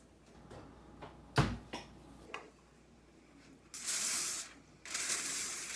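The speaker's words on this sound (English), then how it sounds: "I'm going to spray this." An aerosol cooking spray hisses in two bursts of about a second each onto stuffed peppers in a pan, close and bright, after a few scattered clicks and knocks.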